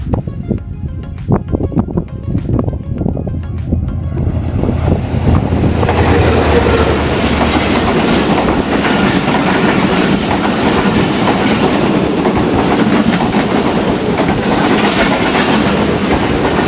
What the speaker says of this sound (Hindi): 14 down Awam express with Warner through passing